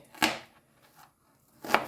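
Two sharp knife chops through an onion on a cutting board, one near the start and one near the end, with a faint softer tap in between.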